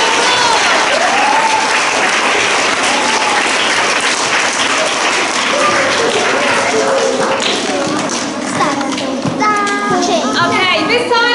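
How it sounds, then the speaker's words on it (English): Pupils at a school assembly get a big round of applause: loud, dense clapping fills the hall throughout, with children's voices chattering and calling over it. "let's give all of our Golden children a big round of applause"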